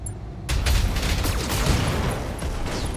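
Mech weapons firing in the video game Battletech: after a short quieter lead-in, a dense, loud barrage of booms and rattling gunfire fills the rest, continuous and close with no talk.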